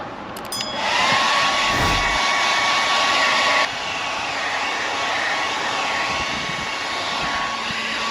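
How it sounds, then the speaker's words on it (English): A blow dryer runs loud and close with a steady whooshing roar and a high whine, its tone dropping slightly partway through, aimed at a faulty Norcold RV refrigerator. "Back to the blow dryer."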